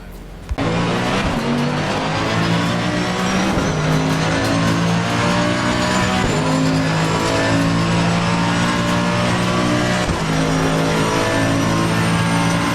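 Race cars, including a Mustang, Lamborghini and McLaren, in a racing video game: a loud, continuous engine roar that climbs in pitch and drops at each gear change, several times in a row.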